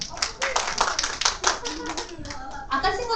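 A group of children in a church kids' class applauds a classmate: dense, steady clapping at close range lasting a few seconds, with a voice talking partway through.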